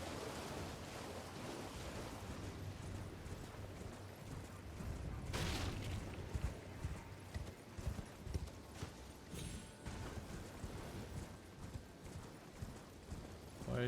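A horse's hooves clip-clop in the video game Elden Ring: faint, quiet footfalls under a steady rushing ambience, with a few sharper knocks in the middle and no talk.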